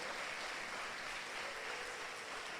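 Members of a church congregation clap together during a Sunday service, producing a soft, even wash of applause that carries on steadily and fairly far off.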